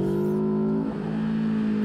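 Racing motorbike engine at Anglesey circuit, a steady high drone that dips briefly mid-clip and then holds again, loud and close.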